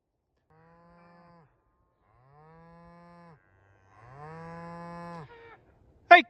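Cattle on a winter ranch give three long, low moos, each growing louder and nearer, separated by short silences, followed by a brief sharp noise at the end.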